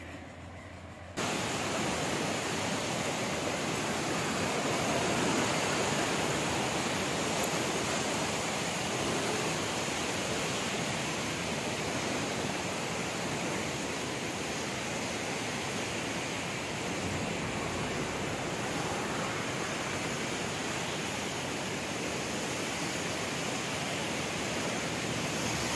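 A huge volume of flood water released from Nepal's Kosi Barrage roars in a steady, dense rushing wash that holds constant from start to finish, with no talk.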